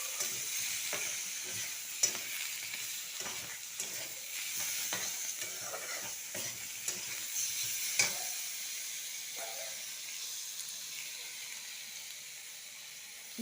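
Fish curry spices and chili powder are stirred and sautéed in a pan, giving a soft, steady sizzle broken by scraping stirs and clinks that thin out toward the end.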